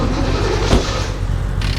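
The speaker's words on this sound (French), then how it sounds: "la voiture avance" Car driving forward in the game The Long Drive, towing a small trailer: a steady, rumbling engine drone close by with a brief heavy thump partway through and a brighter rush near the end.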